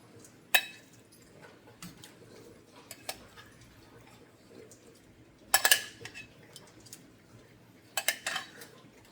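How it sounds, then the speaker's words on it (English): Beef tips dropped back into a pan of red wine sauce, with a few sharp metal clinks of a utensil against the pan spread across a quiet background. "let's go on and get our beef tips back in here so we can slowly simmer them in the sauce"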